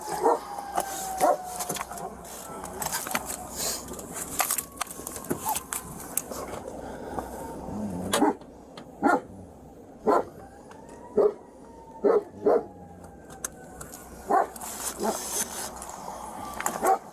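A dog barks in sharp, loud bursts, some spaced in a steady series, mixed with yips, whimpers and drawn-out howl-like whines at close range.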